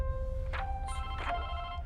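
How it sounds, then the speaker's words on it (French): A telephone in a French drama scene rings with two electronic ringtone bursts in under two seconds, tonal and moderately loud over a low background hum, with no talking. "Paloma, ton téléphone sonne."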